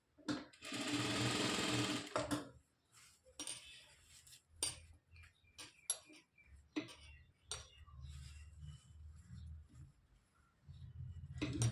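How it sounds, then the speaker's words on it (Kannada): A sewing machine stitching a blouse, opening with a loud continuous run of fast stitching, then quieter intermittent bursts and handling clicks, with faint low rumble later. "ಎರಡನ್ನೂ ಸಮ ಮಾಡಿ ಇಟ್ಕೊಂಡು ಸ್ಟಿಚಿಂಗ್ ಅನ್ನೋದನ್ನ ಕೊಡಿ."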